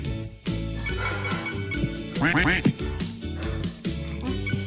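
Cartoonish duck quacks in Roblox, a quick run of them in the middle, over bouncy game music with a short tune repeating.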